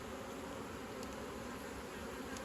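Honey bees buzz steadily inside a hive, a faint continuous insect drone with no voices.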